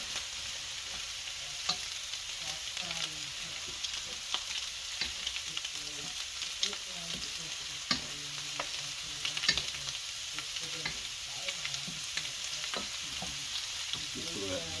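Bacon sizzles steadily in a pan for a Southern bacon and cabbage dish, a close, continuous crackle dotted with sharp little pops and spits.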